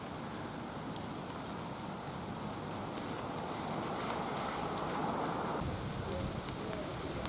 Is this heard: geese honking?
no